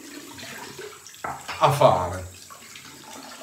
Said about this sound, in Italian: aspetto che arrivi un po' d'acqua calda, bagno il viso